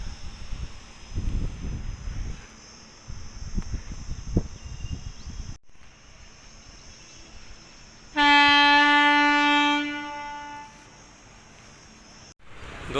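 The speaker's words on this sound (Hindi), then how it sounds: "दोस्तों ये है लक्ष्मीबाई नगर railway station, new railway station" A train at Laxmibai Nagar railway station sounds a long, loud horn blast of about two seconds, preceded by rumbling and clatter from rolling stock passing nearby, then fading.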